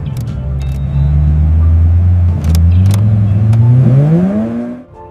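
A Lamborghini Diablo engine runs loud and close, with a rough rumbling idle that swells into a long rising rev before dropping away at the end.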